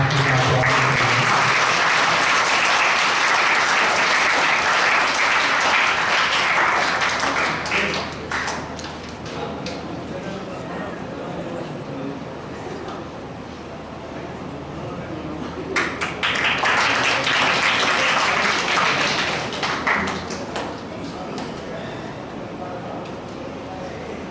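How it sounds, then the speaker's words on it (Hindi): A large audience at a community camp gathering claps loudly to welcome guests, with sustained applause swelling in two bursts and a voice speaking in between. "जोरदार तालियों के साथ"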